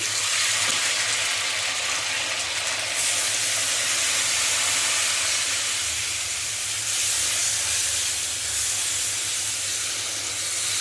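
Ginger, garlic and cumin paste fries in a pan with a little water for a beef dish, a loud, continuous hissing sizzle that stays steady throughout, close by and without talk.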